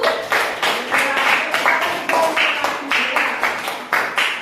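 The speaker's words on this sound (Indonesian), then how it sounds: "Tepuk tangan dulu untuk Restu." Classroom applause for a student breaks out as repeated bursts of clapping from a group of pupils, loud and close, rising and falling in rough waves throughout with no talking over it.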